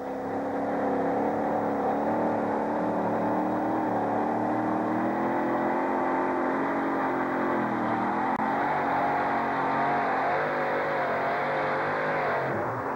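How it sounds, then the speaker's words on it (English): Pulling truck at a truck pull at Anaheim Stadium, its engine holding a loud, sustained, droning rev for the whole run, steady and near with a slight pitch drift. "It's a green flag condition on the track, and here comes John Shipman and Mad Dog's Revenge."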